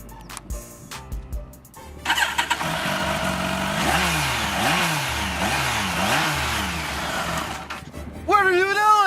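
Motorcycle engine starting after a few clicks, then a steady idle that climbs and dips through repeated revs, ending with a sharper rising rev near the close.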